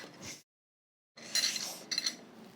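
A metal spoon clinks against dishes in short bright bursts, first one brief chink, then a pause, then a cluster of quick clattering clinks close by.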